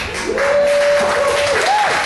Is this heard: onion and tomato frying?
no